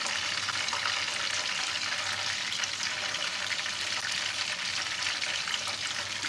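Whole garam masala spices crackle and sizzle in hot oil in a pan, a loud, steady, close frying hiss that holds evenly throughout without any voice.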